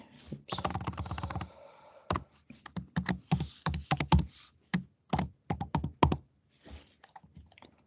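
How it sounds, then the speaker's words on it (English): Computer keyboard typing in short irregular bursts of close, crisp clicks and taps, with pauses between runs of keystrokes; no talk over it. "I'm not typing it correctly"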